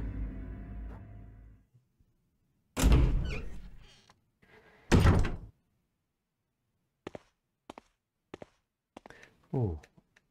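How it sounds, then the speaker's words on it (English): Heavy door opening in the Resident Evil Remake video game, two loud thudding creaks a few seconds apart, followed by sparse clicks and a short voice, with talking at the start. "Must be another door."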